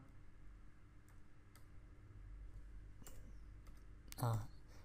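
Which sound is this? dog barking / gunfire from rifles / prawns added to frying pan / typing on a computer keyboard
typing on a computer keyboard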